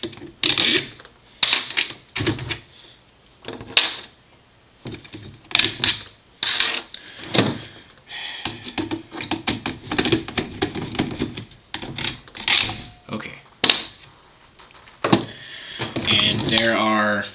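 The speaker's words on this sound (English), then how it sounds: "Pull your screws out." Screws are being removed while taking apart a JG G36K airsoft gun, heard as close, irregular clicks, creaks and scraping handling noises, with someone talking between and over them.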